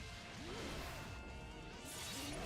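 Glass shattering effect from a fighting video game, a sharp crash heard loudly under dense, busy game sounds and music throughout the short moment.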